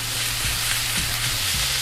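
Tofu scramble being stirred in a hot, sizzling pan, a steady frying hiss with a few soft scraping strokes of the spoon mixing it, close and continuous.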